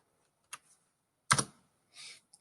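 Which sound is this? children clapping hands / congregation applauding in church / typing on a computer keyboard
typing on a computer keyboard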